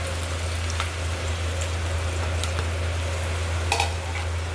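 Chopped onions and green chillies fry in hot oil in a pan, giving a steady hissing sizzle with a few faint clinks and stirring sounds over a constant low hum.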